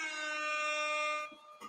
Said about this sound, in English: Love the air horns coming in from Storybot.